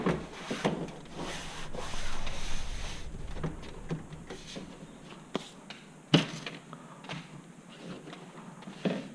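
A metal drive bay cage scrapes and rubs as it slides into a Dell Precision T7910 workstation chassis, with soft shuffling, a few clicks and a sharper knock near the end, close and fairly quiet.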